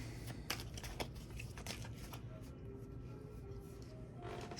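Tarot cards being shuffled close by, with a series of soft riffling bursts and light papery flicks over a quiet room tone, with no talk.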